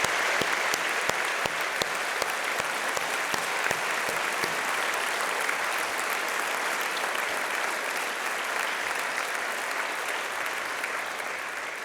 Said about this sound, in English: let's thank them with our applause for what they did and made INSEAD a reality.